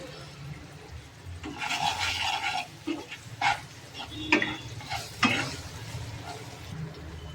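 Spoon stirring tomato masala with chilli powder in a pan, scraping and clinking in short bursts over a faint background sizzle, close and moderately loud, no talking.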